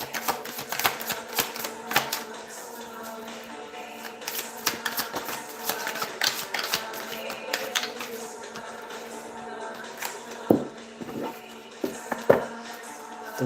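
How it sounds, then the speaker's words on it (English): Tarot cards are shuffled repeatedly, giving a run of crisp riffling and tapping clicks in irregular bursts, close and fairly loud, with a faint background murmur. "I'm going to go ahead and shuffle for the piles here"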